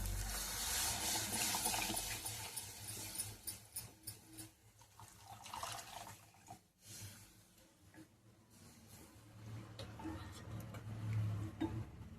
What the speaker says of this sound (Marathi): हे पाणी याच्यात ओतू आता थोडं थोडं